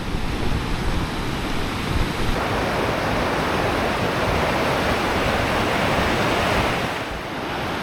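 A wild mountain river rushes through Ala Archa in Kyrgyzstan, a loud, steady broadband roar of churning water that holds constant throughout with no voices.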